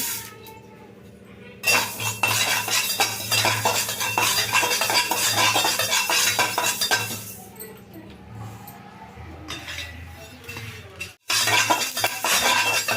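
Fenugreek seeds dry-roasted in a pan while being stirred, giving a dense, steady rattling and scraping of seeds and utensil against metal. It is close and continuous, with a brief pause and occasional clinks.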